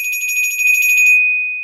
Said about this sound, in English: On a Glockenspiel, if I played a roll, I would use a single stroke roll, which is just a quick alternation of the mallets